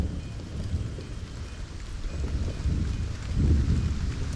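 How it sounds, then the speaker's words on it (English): Rain and thunder in the video game Stranded: Alien Dawn: a steady wash of rainfall with low, rolling rumbles swelling toward the end, with no voices over it. "Wow, that was digital rain."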